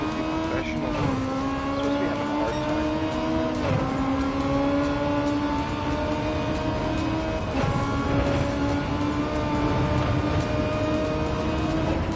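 Race cars lapping a circuit in Gran Turismo 7, a loud continuous engine drone with rising and falling revs through gear shifts, brief tire squeal and other cars nearby, a voice faintly underneath.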